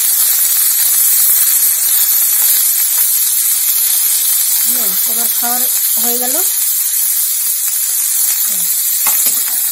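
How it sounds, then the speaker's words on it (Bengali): Chopped beetroot and potato fry in hot oil with a steady, loud sizzle that runs throughout, while a voice talks briefly over it near the end. "এই কেটে রাখা বিটটা, এই তেলের মধ্যে ছেড়ে দিলাম"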